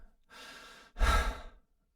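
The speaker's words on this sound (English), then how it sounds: "When you breathe into the chest, which is a shorter breath, filling up only part of the lung" A short breath drawn into the upper chest, a soft rising inhale followed by a louder, fuller sighing exhale, close and alone with no talking.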